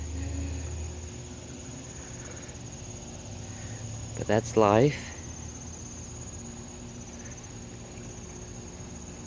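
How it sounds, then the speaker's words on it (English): A constant high-pitched insect drone of cicadas hums in the background throughout, with a person speaking briefly over it. "now I'm dealing with the air conditioning, the cicadas, and the dogs whining"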